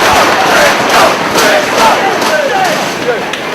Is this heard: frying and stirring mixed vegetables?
no